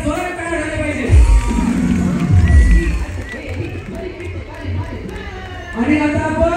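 A crowd of spectators cheers and whoops with loud shouts at a women's Dahi Handi festival in Bhosari. Dense, continuous voices swell around the one-second mark and again near the end.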